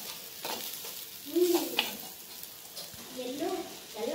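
A gooseberry pickle with salt stirred in a pan: soft scraping strokes over a light sizzle, with a few louder stirs and some faint background voice.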